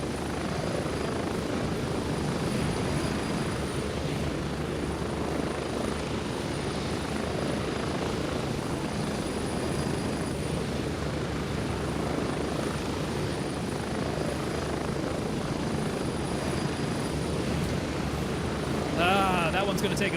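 A helicopter in the shooter game Gray Zone Warfare drones with a steady rotor thrum and engine whine throughout the flight, loud and continuous, with a player speaking over it at times.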